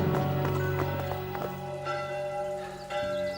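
Irregular hoof clops ring out over a steady bell-like tone and background music, the steps uneven as if horses are moving about nearby.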